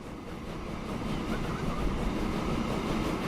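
A train pulls out of a station in the video game Transport Fever 2, a steady rumbling roll of wheels and carriages that gradually grows a little louder.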